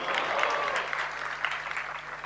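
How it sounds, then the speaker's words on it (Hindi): An audience at a religious discourse in Jabalpur applauds slowly, a dense, fairly loud patter of claps lasting the whole stretch without talking over it. "धन्यवाद है आप लोगों के धीरे धीरे तालियों के लिए"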